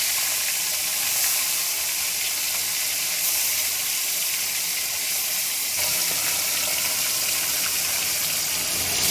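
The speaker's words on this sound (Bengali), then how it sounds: "এবারে আমরা নুন হলুদ মাখানো মাছগুলো হালকা একটু ভেজে নেব।" Salt-and-turmeric-rubbed hilsa pieces lightly frying in hot mustard oil, giving a loud, dense, continuous hiss and sizzle that stays even for the whole stretch.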